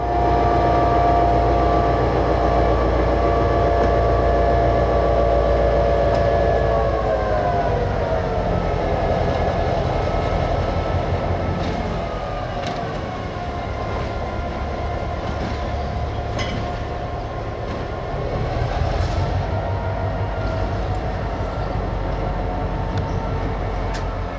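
The NX-10 freight train rolls into Hollyville on the Housatonic line, a steady, heavy rumble of the locomotive and cars with a long horn tone and scattered wheel clanks, continuous and fairly close throughout.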